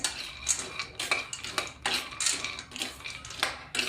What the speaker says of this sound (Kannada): ನಾವು ಒಂದು ಐದು ನಿಮಿಷ ಚೆನ್ನಾಗಿ ಈ ಬಾದಾಮನ್ನ ಹುರ್ಕೋಬೇಕಾಗತ್ತೆ